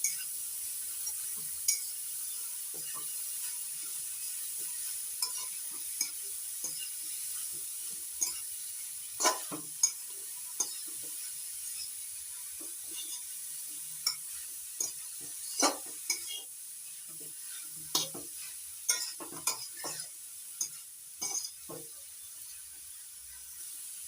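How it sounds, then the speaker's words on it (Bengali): Grated carrot and beetroot are stirred in a frying pan, making a soft, continuous sizzle broken by sharp spatula scrapes and clinks at uneven intervals. "এবার দিয়ে দিচ্ছি গ্রেট করে নেওয়া গাজর আর বিট। ভালো করে নাড়াচাড়া করে নিচ্ছি।"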